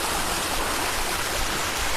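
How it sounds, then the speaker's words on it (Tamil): Water flows steadily in a stream along a hillside walking trail near a temple, a continuous broadband rushing wash, close and even, with no voices. "நல்லா தண்ணி வருது."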